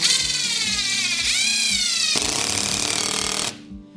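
A power drill driving a screw whirs loudly and steadily, rising briefly in pitch near the middle, then cuts off abruptly near the end.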